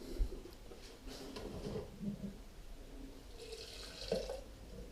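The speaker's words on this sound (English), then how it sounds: "Get a bit of boiling water in there to get it all off." Boiling water is poured into a container while making homemade ginger beer, a quiet, splashing liquid trickle with a few soft knocks, faint and close throughout.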